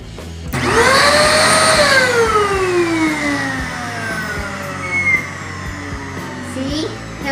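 A household vacuum cleaner switches on with a loud, steady motor roar and high whine that drifts downward in pitch over several seconds, then swells slightly again near the end.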